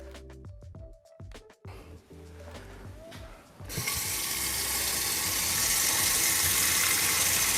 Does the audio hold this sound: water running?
yes